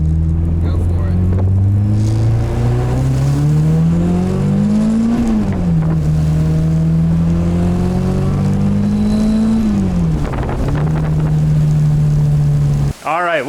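K-swapped Nissan Cefiro on a tuning pull, engine revving hard and loud in repeated sweeping climbs, dropping back between pulls and climbing again, close and dominant throughout before cutting off abruptly at the end.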